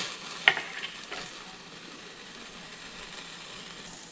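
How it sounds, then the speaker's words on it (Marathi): Pressure-cooked tandoori chicken roasting and frying over a gas stove at home, a soft steady sizzle with a sharp click early on, fairly quiet and with no talk. "आता मस्त आपण गॅसवर असं शेकून घेऊया, चांगलं असं फ्राय करून घेऊया"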